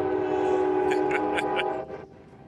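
Train passing in the Garry's Mod Prop Hunt video game, a loud sustained horn-like rumbling drone with rhythmic clacking bursts, fading after about two seconds.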